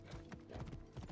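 A horse gallops in the video game Assassin's Creed Origins, a quick run of rhythmic hoofbeats lasting about a second, fairly faint and without talk.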